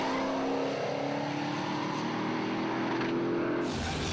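A customised 1950 Studebaker driven on a race track on a cold day, its engine a steady loud drone with a gradual rise in pitch as it accelerates, heard up close without talk.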